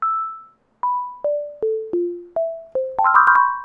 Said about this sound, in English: And then you're going to play your sound. It's going to sound like this.